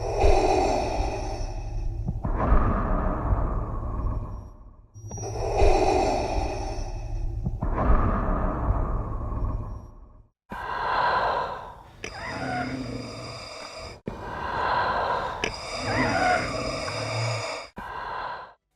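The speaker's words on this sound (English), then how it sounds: "we went back to some of the recordings I had made of the very raspy, labored kind of breathing" Darth Vader's raspy, labored breathing effect: slow repeated inhales and exhales, each a loud breathy rasp of about two seconds, followed by shorter, choppier breathy bursts and gasps, heard close up and alone.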